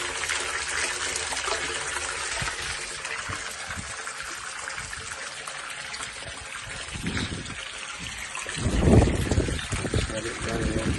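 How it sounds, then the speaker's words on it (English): Water running into a cattle drinker on a ranch after the supply is turned on, a continuous rushing flow with louder splashing bursts toward the end, and someone talking at times. "So I'm gonna go ahead and turn the water on."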